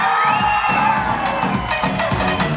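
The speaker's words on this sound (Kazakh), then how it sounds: "Жәмила дегені шапалақ ұрсын." A wedding-party crowd at a youth celebration cheers and whoops loudly in a dense, continuous roar, with scattered shouts and voices mixed in.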